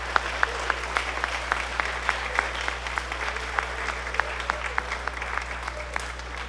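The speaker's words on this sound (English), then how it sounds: "Give one more round of applause" A school concert-band audience claps steadily at a spring concert, a dense, sustained round of applause with sharp individual claps standing out, over a constant low hum in the hall.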